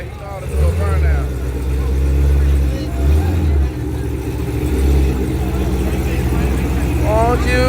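A car does a burnout at a Memphis street-racing armdrop event, its engine holding a loud, steady, droning roar throughout, while people talk nearby over the noise.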